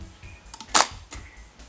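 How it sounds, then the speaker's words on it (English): Zenit TTL 35mm SLR film camera shutter release, one sharp loud mechanical clack in the middle, with lighter clicks of the mechanism just before and after. "just to give you an idea of what it sounds like when we press the shutter release button"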